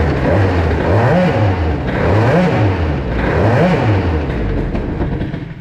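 A Bidalot RF 50 WR moped with a 70cc exhaust revs repeatedly during a clutch test, its engine rising and falling in about four loud, close surges over a steady buzzing idle.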